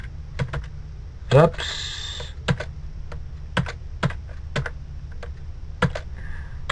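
Keystrokes on a computer keyboard, a string of sharp separate clicks at an uneven pace, with a brief spoken exclamation partway through.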